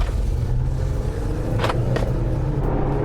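A Jeep Gladiator Rubicon's Pentastar 6-cylinder engine idles with a smooth, steady low rumble, close and continuous, with a couple of brief faint hisses over it.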